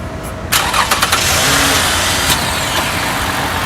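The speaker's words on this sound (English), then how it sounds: "I can't believe it just started this car. No battery at all connected." A car engine is started with no battery connected, cranking in a few quick bursts before catching and settling into a loud, steady idle close by.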